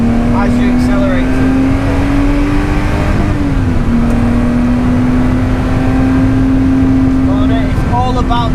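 A race car accelerates around the Oulton Park circuit, its engine holding a loud, steady drone that rises in pitch and dips briefly mid-pass, with someone talking continuously over it.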